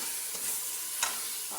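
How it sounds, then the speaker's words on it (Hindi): Tomatoes and green chillies being stirred into a pan with turmeric, red chilli and salt for masoor dal, a faint steady sizzle with one brief scrape of the spoon. "अब इन चीज़ों को मिक्स कर दूँगी"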